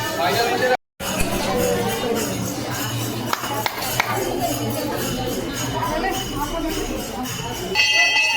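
Dense crowd of pilgrims at Panchmukhi Budha Mahadev temple on a Sawan Monday, a continuous loud babble of many voices with a few sharp bell-like strikes, a brief dropout near the start and someone talking over it.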